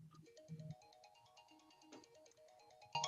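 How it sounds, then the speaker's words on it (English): Mobile phone ringtone going off during a government work session, a short looping electronic melody of stepped tones that sounds fairly faint and distant in the room, with no talk over it. "That's my phone."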